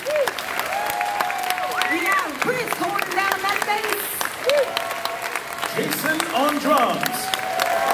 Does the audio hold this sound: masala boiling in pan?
no